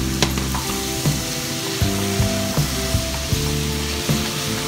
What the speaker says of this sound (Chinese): 煸炒2下，不要炒时间长，马上放入您炒好的鸡丁。